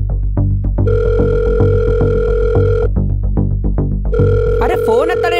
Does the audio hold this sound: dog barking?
no